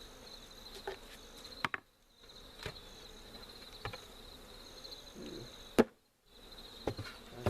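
Honeybees in a hive hum as a steady insect drone with a faint tonal whine, broken by a few sharp knocks and two brief near-silent gaps.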